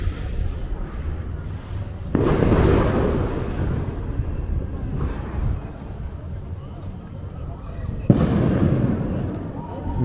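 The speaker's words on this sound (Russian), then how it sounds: "Где-то салют стреляют." Fireworks booming somewhere in the distance over Rhodes, two or three muffled bursts with rumbling tails rising out of a low background hum, sounding far off.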